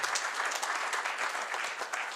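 Audience members at an annual general meeting give a brisk round of clapping, moderately faint and steady, with no talk over it.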